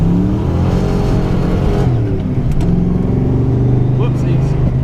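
A 1987 Mustang GT revs hard while its wheels spin on a rainy, wet road. The engine roar is loud, close and continuous, with the pitch rising and wavering throughout.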